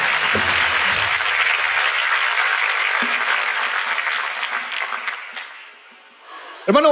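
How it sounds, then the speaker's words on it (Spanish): Studio audience applause on a comedy talk show, a loud, full round of clapping that gradually thins and fades out, ending with a sharp, sudden noise. "Un fuerte aplauso para él."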